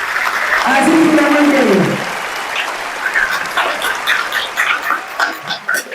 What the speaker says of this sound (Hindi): तो जोरदार तालियां आसिफ भाई के लिए,